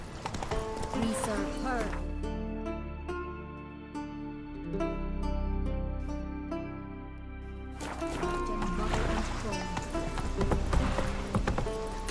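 Horse hooves clip-clopping at a steady trot in the video game Witcher 3, rhythmic and continuous under game music with a voice talking over it.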